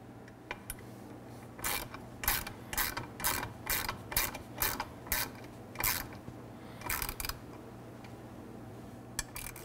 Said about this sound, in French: on va prendre notre Allen key numéro 4 et notre clé numéro 10 et on va sécuriser la vis ici